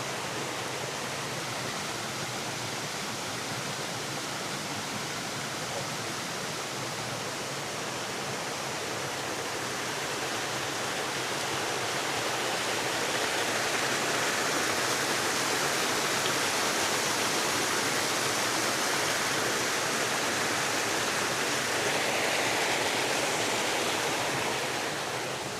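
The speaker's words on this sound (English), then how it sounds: "So glad I found this waterfall." A waterfall near Perth pours in a steady, close roar of broadband rushing water that swells slightly louder midway and continues alone without voices.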